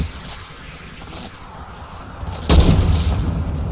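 Shotgun fire in the Fortnite video game, a single loud blast about two thirds of the way through over a steady background of game sound, with faint higher pings earlier.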